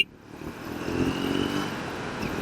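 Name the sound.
motorcycle being ridden off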